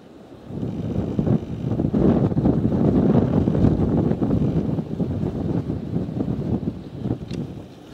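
Strong gusting wind outdoors on a fishing outing swells into a steady, heavy roar against the microphone after a brief quieter start, easing slightly toward the end.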